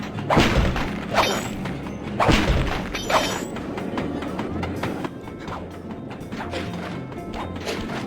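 An antique handcar races along rails at breakneck speed in the video game Sly 2, a steady rumbling clatter with heavy clanks and thuds, loud and continuous throughout.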